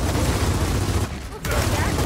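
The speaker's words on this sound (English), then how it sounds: "Gunfire. I said gunfire." Gunfire in the video game Gears of War 4 forms a dense, loud wall of rapid shots and blasts that drops out briefly in the middle before resuming.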